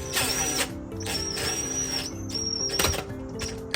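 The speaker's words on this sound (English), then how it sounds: "it's okay to use a impact driver or simple drill on a slower speed" A power drill whirs at low, steady speed, with a thin whine rising and dropping as it drives a screw into a wooden keepsake box close by.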